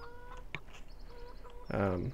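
Chickens cluck intermittently in Farming Simulator 17, short soft calls with a louder burst near the end over a low steady background hum.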